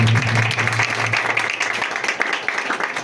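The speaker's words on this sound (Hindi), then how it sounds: "उसकी हजूरी के लिए हम जोरदार तालियां बजाएंगे" A church congregation claps loudly together in a thick, continuous burst, with a low sustained voice or tone heard over the first second before the clapping carries on alone.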